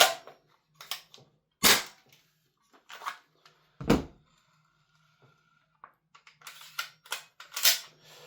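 An airsoft gun with a Strike Industries MWS magazine fires several sharp, separate pops as the magazine is cleared, with quiet clicks and handling noises between shots, close and alone.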